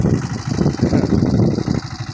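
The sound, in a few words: boat engine running on the Ganges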